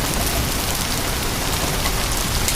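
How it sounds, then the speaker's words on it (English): Pea-size hail pelting down during a St. Louis derecho thunderstorm with high winds, a dense, loud, continuous hiss and patter of hailstones striking surfaces, without pause and with no voices. "Hail falling right now is about pea size."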